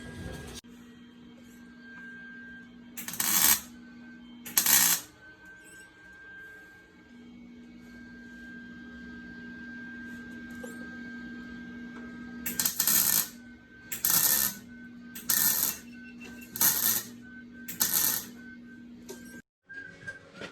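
Welding on a car in a garage: a series of short, sharp crackling bursts of arc welding, several in a row with pauses between, over a faint steady electrical hum.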